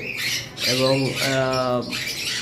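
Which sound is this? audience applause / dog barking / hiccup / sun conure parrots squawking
sun conure parrots squawking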